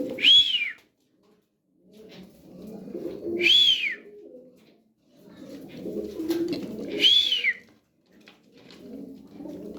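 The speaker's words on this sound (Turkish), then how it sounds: "Kuşlar bunlar arkadaşlar." Pigeons coo close by in a loft, three distinct rising calls a few seconds apart with softer rustling and murmuring between them.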